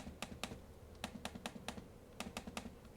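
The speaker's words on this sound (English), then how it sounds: "This is more than enough trackpad for me. Smooth texture, right? Feels nice. And the click is nice." The trackpad of a Lenovo Yoga Pro 7 14-inch AMD laptop clicking, a quick run of sharp, close, light clicks in an uneven rhythm, alone and fairly quiet.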